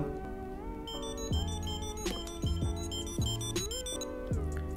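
A small Mynt key finder tracker plays a repeating electronic melody, bright and tinny beeps over a soft background, close by and steady for several seconds.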